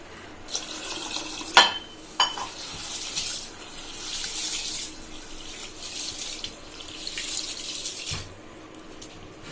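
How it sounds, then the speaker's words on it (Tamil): Grains with a teaspoon of fenugreek rinsed under running water in a sink, a steady tap flow with splashing and a few sharp clinks of a vessel, close and moderately loud, no talking. "இதை இப்போ நல்லா கொஞ்சம் ஒரு ரெண்டு கழுவு கழுவி இதை ஊற வைக்கலாம்"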